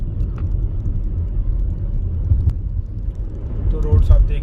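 Ford EcoSport driving at a steady 40 to 50 on a winding mountain road from Narkanda toward Nako, a continuous low engine and road rumble with someone talking over it throughout.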